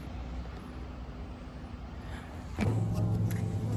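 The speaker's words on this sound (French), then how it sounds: "Ah, il est là le bus." A city bus pulls in along the road, its engine rumble rising suddenly to a steady, louder low drone over continuous background traffic noise.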